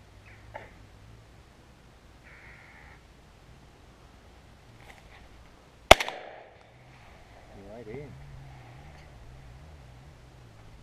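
A single sharp gunshot cracks out while shooting at crows outdoors, loud against a quiet background, with faint voices and low ambient noise around it.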